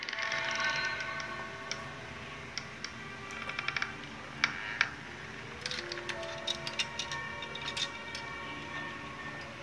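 Creaking and rattling of shaking clothes hangers in a horror short film, a run of sharp irregular creaks and ticks rising over a steady noisy background, loudest in the middle of the stretch.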